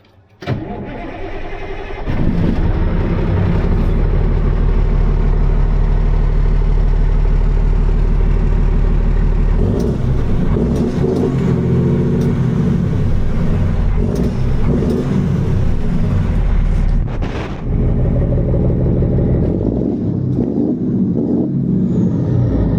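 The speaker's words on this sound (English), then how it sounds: "Let's hear this exhaust." An International Paystar 5600 truck engine cranks and starts, then idles loudly with a deep exhaust rumble, rising briefly into throaty revs before settling back to idle.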